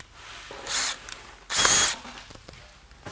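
A power drill fitted with a pilot hole bit bores into wood in two short whirring bursts, the second louder and longer, with faint handling clicks between and after.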